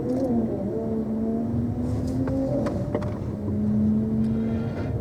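Toyota Camry taxi pulling away from a start line with gentle throttle, a steady, moderately loud engine drone with a rising tone and some wind noise, no talking.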